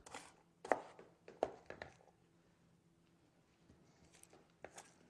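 A knife chops food on a board in a few close, irregular thuds, clustered early and then again near the end, with quiet gaps between.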